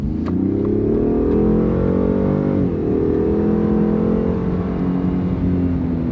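A pickup truck cruises on a smooth road, a steady engine hum and tire whir filling the cabin evenly throughout, with a slight dip and rise in pitch midway.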